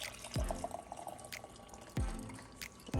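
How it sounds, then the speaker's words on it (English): Emu bone broth being poured into jars, with soft liquid splashes and drips and a few sharper plops, close and quiet, nobody speaking. "let's put this broth into our jars."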